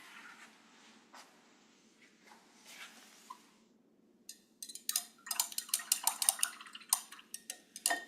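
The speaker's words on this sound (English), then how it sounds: "Trying to stir it." Hot aluminum being stirred in ice water, giving a run of quick, clinking metallic taps and rattles that grow denser and louder in the second half after quieter scattered knocks.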